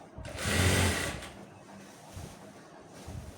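A sewing machine runs in one short burst of stitching on dress pants, loud for about half a second before fading to quiet fabric handling and faint knocks, with no voices.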